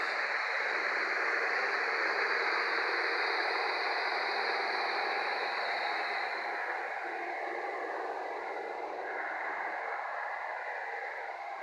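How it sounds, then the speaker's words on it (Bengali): A paper roll making machine running steadily: a continuous, even mechanical whir and hiss with faint ratcheting, constant loudness throughout, with no voices. "এই মেশিনটা দিয়ে পেপারের রোল হয়"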